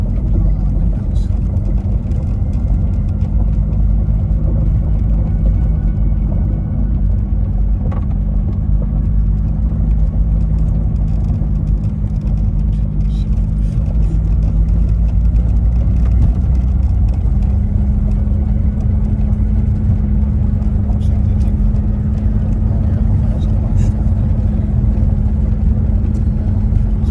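A car creeps slowly over bumpy rural ground on mowed land among trees near Cosby, Tennessee, its engine a constant low rumble heard from inside the cabin, with faint knocks and rattles scattered over the drone.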